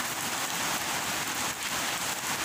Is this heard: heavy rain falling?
yes